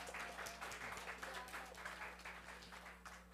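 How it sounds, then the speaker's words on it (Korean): Faint clapping from a youth group at a church worship service, a thin patter of hands over a low steady hum. "박수"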